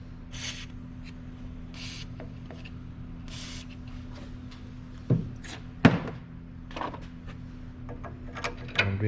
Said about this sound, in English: And let me spray the W40 a little bit.